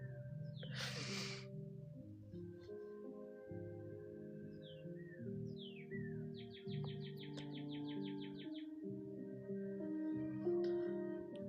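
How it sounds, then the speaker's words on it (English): A bird sits outside a window in the middle of the woods and chirps, with short bright calls and a rapid trill standing out over a steady background of music-like tones. "The bird is outside my window. It sits outside my window and chirps almost every morning."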